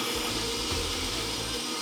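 A blender whirs steadily as it purees a smoothie with ground flaxseed, a continuous loud motor whine with slight wobbles in pitch, running alone without talk.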